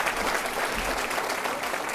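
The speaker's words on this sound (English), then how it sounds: "Let's give them a nice round of applause." A crowd at an elementary school ribbon cutting ceremony applauds steadily, dense clapping filling the room at an even level throughout with no pauses.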